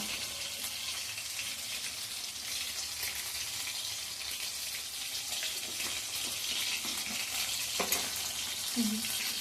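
Duck egg curry with garam masala sautéing in a pan, a steady low sizzle and frying hiss running throughout, with a few soft clinks of stirring near the end.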